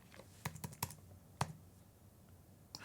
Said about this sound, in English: I was pressing the delete backspace button because on the Mac keyboard, there's 2 delete buttons